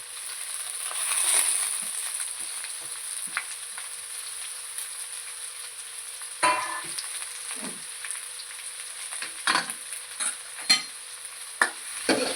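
Homemade puffs fry in hot oil with a steady, close sizzle, broken by several sharp scraping stirs and clinks toward the end; no voices.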